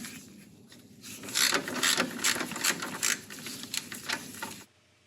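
A ratchet wrench loosening the belt tensioner on a VW power steering setup gives rapid, close metallic clicking in uneven bursts for several seconds, then stops abruptly, with no talking.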